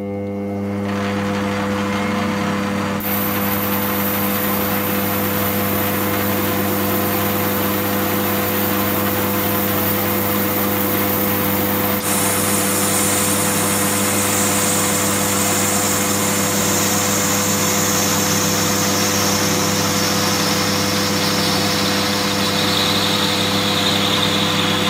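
A lathe faces the end of a brass workpiece in a continuous steady machine drone with a high cutting hiss joining in partway through, close and constant for the whole stretch, no talking.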